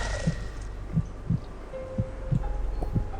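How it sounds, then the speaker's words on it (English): Slow, steady heartbeat thumps from the PC game Sanitarium, a low muffled double beat roughly every half second over a constant droning hum. "I'm hearing heartbeats. Am I taking battle damage?"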